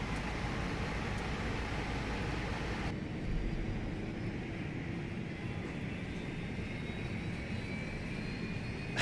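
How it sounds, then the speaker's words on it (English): Airbus auxiliary power unit starting up on the ground at the gate, a steady broad roaring whine with a noticeable shift in tone partway through, continuous and fairly loud throughout. "I'm starting the APU."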